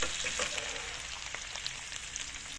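Food fries quietly in a pan until browned, a soft continuous sizzle and crackle at low level with no voices.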